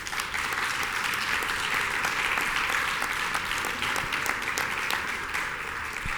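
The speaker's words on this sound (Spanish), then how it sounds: "Démosle un gran fuerte aplauso." Steady, dense applause from an audience at a Spanish-language human rights panel, welcoming a panel speaker; loud and continuous for the full six seconds with no talk over it.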